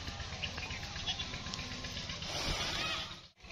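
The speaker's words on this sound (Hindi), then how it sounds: "बकरी रो रही थी" A goat bleats close by in a rural household yard, with a steady wavering call carrying over faint background noise and a brief dip near the end.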